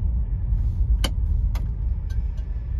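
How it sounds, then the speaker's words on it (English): A 1971 Mercury Marquis Brougham cruising a rough, badly surfaced road at twilight, heard from inside the cabin as a steady low road and engine rumble, with a few faint, brief knocks and rattles rising above the hum. "a Twilight drive in the 71 Marquis Brougham"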